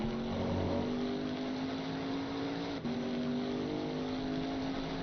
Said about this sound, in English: you've got to love the sound of these cars